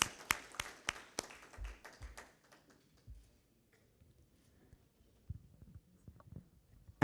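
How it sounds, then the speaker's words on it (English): Conference audience applause: a short burst of sharp claps at the start that quickly thins out and fades, followed by quiet room noise and a few scattered taps. "Everyone, let's have a huge round of applause."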